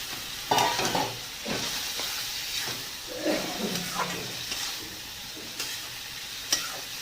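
Soaked split peas are stir-fried in a pan with water added, making a soft sizzle with scattered scraping stir strokes and light ticks, fairly quiet and with no talking.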